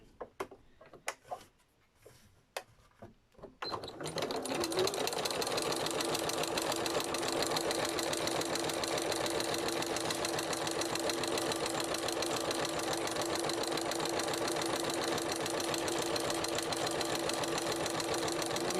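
A sewing machine stitches decorative cord. A few scattered clicks and taps come first, then the motor settles into a loud, steady, rapid whir that runs unbroken to the end.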